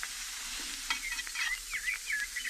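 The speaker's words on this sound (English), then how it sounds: "How long do I have to listen to them sizzling there on the griddle?" Hamburgers sizzle on a griddle with a steady, soft frying hiss and faint crackles, heard close and alone.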